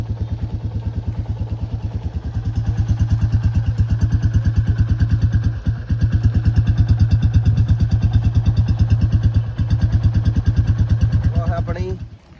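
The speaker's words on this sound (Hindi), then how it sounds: "नए वाली बुलेट है 350 स्टैंडर्ड" A Royal Enfield Bullet 350 Standard motorcycle engine runs steadily at idle with a deep, even thump, loud and close, briefly dipping once before cutting off at the end.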